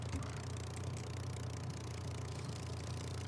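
A simulated Supermarine Spitfire Mark IX engine idles with a steady, low drone and a faint rattling texture, heard from outside at a constant level.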